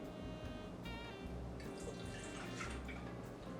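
One cup of milk poured into a medium mixing bowl for funnel cake batter, a soft, close trickling and splashing stream heard quietly for a few seconds.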